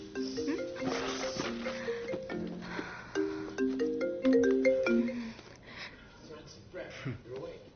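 A phone ringtone plays a repeating melodic tune in several bursts during a movie scene, with voices speaking over and between the rings.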